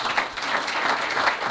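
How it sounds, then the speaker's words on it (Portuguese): A dinner audience at the Clube dos Pensadores claps in a dense, steady burst of many hands, close and continuous with no voices over it. "Podem bater palmas."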